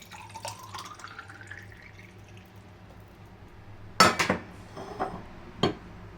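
Cooled boiled water from a kettle is poured into a pet bird's water dish, a rising trickle at first, then a few close clinks and knocks of the dish and kettle.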